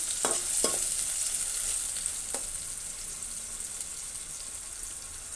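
Chopped onion and garlic fry in an oil-filled pan, a steady hissing sizzle at moderate distance with a few faint knocks early on, gradually settling softer, no talking.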